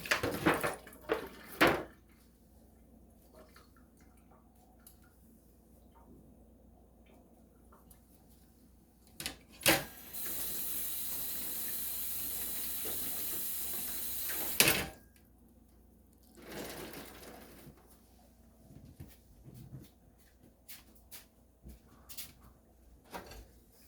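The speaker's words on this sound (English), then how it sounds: "Now I'm going to clean the stove off." A kitchen stove is scrubbed clean, with scattered clatters and knocks of items being moved, then a sustained gritty scrubbing hiss for several seconds before the clattering resumes. No one speaks.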